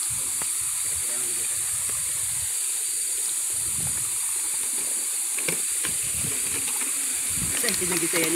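Kawa-Kawa Falls pours in a steady, dense rushing roar that fills the whole clip, with a few brief knocks and faint voices underneath.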